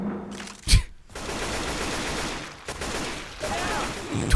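Gunfire in the zombie game Left 4 Dead 2, a continuous rattle of automatic shots with a sharp crack near the start, steady and moderately loud throughout.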